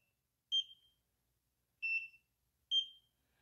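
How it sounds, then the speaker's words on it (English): An anti-aging laser device for the face gives three short, clear electronic beeps spaced apart, with near silence between them. "Same thing, beep means it's done."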